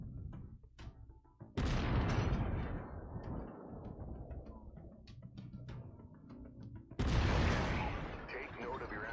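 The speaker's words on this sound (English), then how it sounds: "I've mapped the autocannon to weapon group 1. You're free to fire whenever you're ready." Mechwarrior 5: Mercenaries autocannon shots: a sharp, loud blast lands early, followed by a rumbling decay and scattered clicks. A second powerful blast hits near the end, with faint talk in between.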